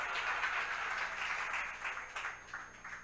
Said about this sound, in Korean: 박수를 주세요.